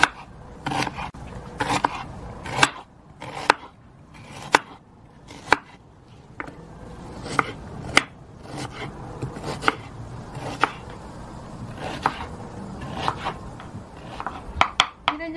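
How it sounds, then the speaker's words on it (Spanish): Knife chopping onion and tomato on a cutting board for a Mexican tomato broth, a quiet series of crisp irregular taps and cuts with short pauses between bursts, close and alone. "Vamos a comenzar haciendo nuestro caldillo, picando la cebolla y el jitomate."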